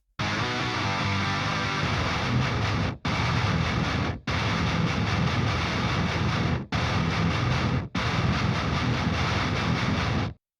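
Soloed, double-tracked heavy djent guitars chug a dense distorted breakdown, loud and wall-like, broken by four abrupt stops of silence, with no voices.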